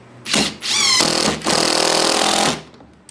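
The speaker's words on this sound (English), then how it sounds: "why am I screwing the screws in from the top?" Power screwdriver driving screws down from the top into a wooden cornhole board frame: three close, loud bursts of whirring motor, the last and longest lasting about a second.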